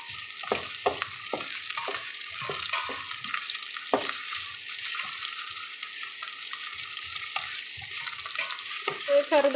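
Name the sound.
vegetables sautéing in ghee for pulao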